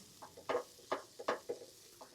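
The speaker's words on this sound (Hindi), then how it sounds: "मैदे को हम अच्छी तरह चिकन के साथ भून लेंगे।" Flour and chicken being stir-fried in a pan: a series of six or seven short scraping, sizzling strokes in an irregular rhythm, close and fairly quiet over a faint background hiss.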